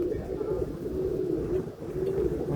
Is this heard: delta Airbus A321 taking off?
no